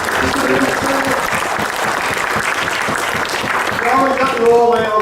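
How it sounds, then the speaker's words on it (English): A big round of applause from an audience at a church program's musical workshop presentation, steady dense clapping throughout, with a few voices and brief cheers rising toward the end. "Big round of applause"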